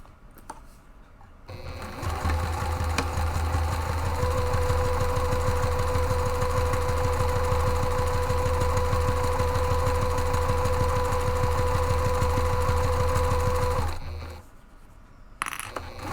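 A sewing machine runs one long continuous seam across the base panel of a tote bag, a close, even rapid clatter of stitches that starts and stops cleanly, with quiet before and after and no speech.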